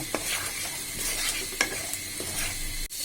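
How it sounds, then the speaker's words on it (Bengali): Shrimp frying briefly in a pan for a sweet pumpkin and shrimp curry, with a steady crackling sizzle and a few sharp scraping stirs of a spoon, close and without speech. "এক মিনিটের মতো সময় আমি ভেজে নিয়েছি"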